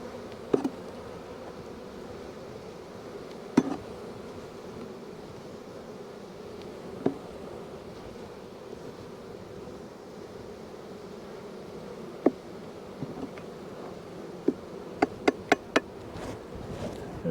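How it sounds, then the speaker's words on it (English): Honey bees buzz around a hive in a steady, close droning hum, interrupted by occasional sharp knocks and taps of hive equipment being handled, clustered near the end. "I'll get rid of some of these bees."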